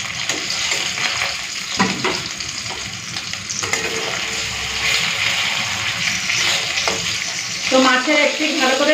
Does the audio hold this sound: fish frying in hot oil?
yes